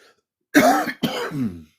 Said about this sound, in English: Also, get a little bit of a cough going here.